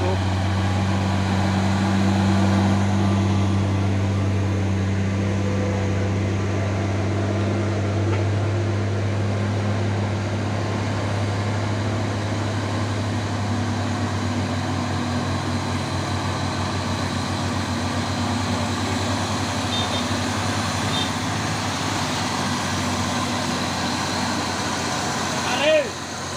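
Mitsubishi Fuso trucks drive past on an Indonesian road, a steady low engine drone and broad road rumble running throughout, fairly loud and continuous, with a brief clunk near the end.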